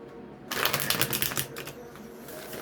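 A quick burst of tarot card shuffling, crisp riffling clicks for about a second, then fading into a quiet room.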